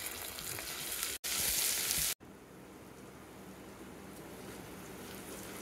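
Ginger-garlic paste with cumin and coriander powder fries in a pan for tomato rasam, giving a continuous close sizzle that briefly swells louder and hissier in the middle before settling back to a steady crackle.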